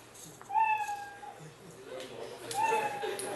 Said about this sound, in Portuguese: Aqui ele fala miau para sempre.